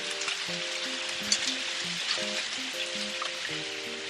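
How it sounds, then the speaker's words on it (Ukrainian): Hail falls during a sudden storm, a dense steady hiss of pellets striking surfaces near a car, running continuously under a repeating melodic tone pattern. "У нас тут трошки негода розпочалася. Град пішов."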